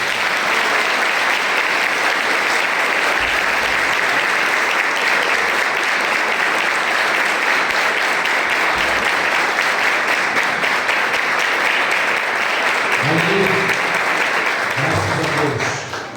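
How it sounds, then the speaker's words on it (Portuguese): A church congregation at a conference claps together in sustained, even applause for over fifteen seconds, loud and unbroken, with a low voice creeping in near the end. "Vamos aplaudir."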